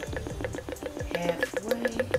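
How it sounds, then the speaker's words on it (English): Cooking oil pours from a container into a bottle, a soft run of dripping, gurgling liquid pulses heard close up under a faint background of music or voice. "I'm gonna pour my cooking oil into my bottle"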